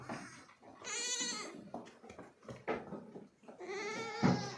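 A young male goat kid bleats in repeated wavering calls, loud and close, with shorter rustling and farmyard noises between the cries.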